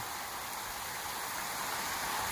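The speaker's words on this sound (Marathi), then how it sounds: "लय जबरदस्त पाऊस आला मित्र आम्ही शेंगा तोडून जबरदस्त पाऊस आहे" Heavy rain falls outdoors in a steady, unbroken hiss of downpour, fairly soft and even from start to finish, with no talking.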